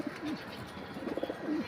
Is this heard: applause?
no